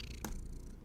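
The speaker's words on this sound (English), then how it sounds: "thanks for joining me and apparently my cat down here" A cat purrs close to the microphone in a quiet room, a soft continuous low rumble with one brief brighter click.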